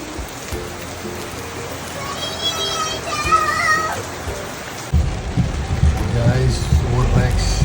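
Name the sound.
heavy rain in the Philippines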